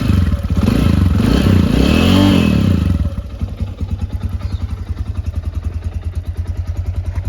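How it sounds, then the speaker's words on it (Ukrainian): A nearby cold Loncin SX2 250 motorcycle engine revs hard for a few seconds, then drops back to a fast, uneven idle with a rapid chugging pulse. "Можна підгазувати, то мотоцикл холодний зараз."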